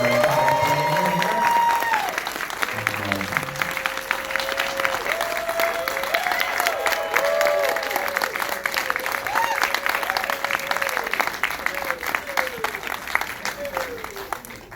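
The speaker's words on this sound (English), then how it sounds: "Let's have one more round of applause." Audience applause after a movie Q&A with the director, sustained clapping from a seated crowd that fades toward the end, with music and scattered voices running underneath.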